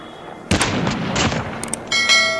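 A gunshot in Call of Duty Mobile during a solo vs duo match: a sharp, loud burst cuts in suddenly, followed by a rumbling tail and a couple of further clanking hits, with no talk.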